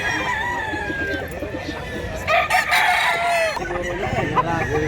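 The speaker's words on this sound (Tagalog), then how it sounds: "Gandang manok, daming manok dulu." Chickens cluck and roosters crow at a busy chicken market in Mantalungon, Cebu, with a long crow standing out mid-clip over steady close clucking and murmuring talk.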